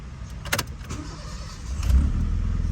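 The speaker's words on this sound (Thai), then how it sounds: "สตาร์ทเครื่อง" A Honda City or Jazz with a CVT cranks and its engine starts, settling into a low steady idle, close by, with a few clicks and thumps from inside the car before it.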